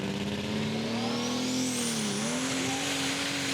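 A methanol-fuelled pulling tractor at a country show's tractor pull roars at sustained high revs with its wheels spinning, loud and close, the engine pitch climbing steadily then dipping briefly before rising again.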